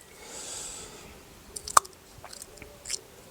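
A Kelvedon Wonder pea pod gives a single crisp pop midway, close by, against a faint hiss and a few small crackles from handling, with no speech.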